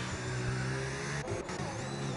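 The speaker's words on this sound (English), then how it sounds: "Jules letting the safety car go off." A safety car pulls away on a Las Vegas race track in sim racing, its engine a steady close hum with shifting harmonics and brief revving dips, heard alone without talk.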